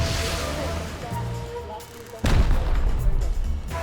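Gunfire in the survival video game Rust, with heavy booming shots over a dense, noisy game mix and a loud burst about halfway through. Someone talks over the shooting.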